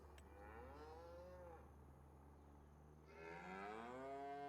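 Cattle on a working farm low and moo loudly and close by, with a long drawn-out call followed by another rising moo, with no talking.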